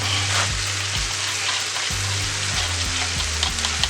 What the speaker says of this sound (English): And then we're going to add our eggs.